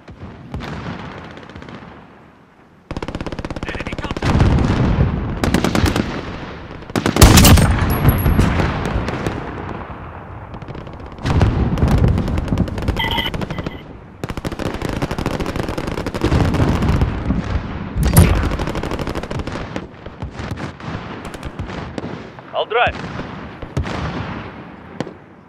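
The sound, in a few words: gunfire in video game Call of Duty Modern Warfare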